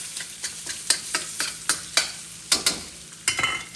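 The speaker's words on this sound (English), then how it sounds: "the shrimp will not take near as long as the pork, but if you just keep tossing it, it will all get cooked" Pork and shrimp fried rice tossed in a wok with a wooden spoon, giving close, rhythmic scraping stir strokes about twice a second over a steady sizzle.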